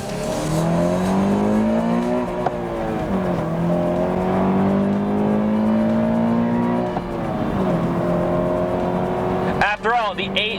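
A 2020 Toyota 86 Hakone Edition, a lightweight front-engine, rear-drive manual coupe, is driven hard on mountain roads: a loud, steady engine note climbs through the revs, dips at two gear changes, and ends in a brief, busier burst.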